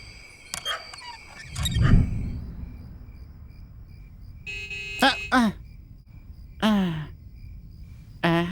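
Short jeep horn tones sound in bursts: a pair of toots, then a sustained horn blast, with voices calling out in between against a steady outdoor hum.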